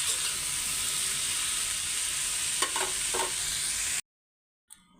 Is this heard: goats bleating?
no